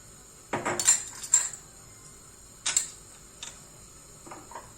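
Spoonfuls of oil are added while metal cutlery clinks against a glass or pot, several sharp clicks in two bursts near the start and middle, then a few fainter taps, close and fairly quiet.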